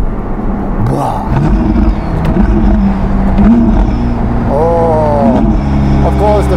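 Ferrari SF90 Spider, 1109 hp, with a Novitec exhaust, engine rumbling and revving in rising and falling pitch sweeps, close and loud, with people talking over it.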